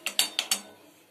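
A metal spoon stirs tea in a pot, making four quick, bright clinks against the metal in rapid succession before fading out.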